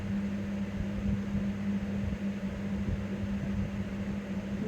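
A cable car (cable bus) runs at Katraj garden with a steady mechanical hum and whirring drone, constant and close, with no clear breaks or voices.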